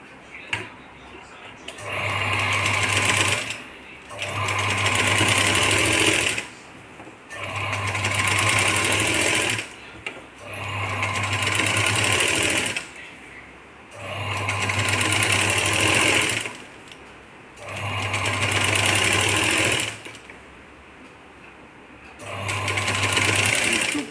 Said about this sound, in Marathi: आता इथून आपण जोडणार आहोत बघा असं इथे एक पूर्ण स्टिप मारून घ्यायची